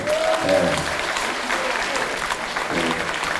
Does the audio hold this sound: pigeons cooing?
no